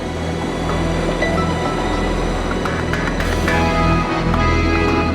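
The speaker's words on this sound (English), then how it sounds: "The train departs promptly" A train departs Vienna westward on an Austrian railway journey, its heavy steady rumble loud and close with a low drone, rattling carriages and faint metallic squeals and clicks from the wheels.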